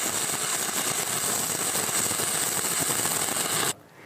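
Stick welding arc burning a 7018 rod in the flat position, a steady loud crackling hiss with no pauses that cuts off abruptly near the end.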